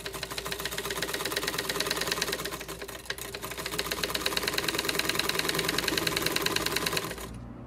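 A domestic sewing machine runs steadily while stitching the seam of a cloth protective face mask, a fast, even mechanical rattle that speeds up slightly and then stops abruptly near the end, with no talking.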